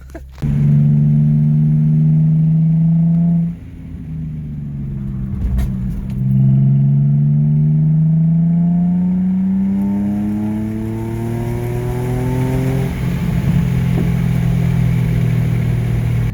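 A Nissan 350Z engine with a replica aftermarket exhaust revs up in long rising sweeps, dips, then climbs again steadily, its exhaust loud and close with a slight raspy edge at the top.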